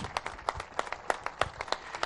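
Crowd at a road inauguration clapping for road workers, a short run of distinct, fairly sparse claps, quiet and somewhat distant.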